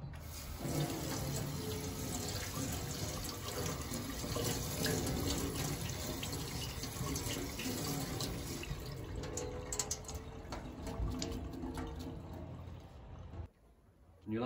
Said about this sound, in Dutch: Als eerste stap gaan we nu de rijst laten uitspoelen onder koud stromend water.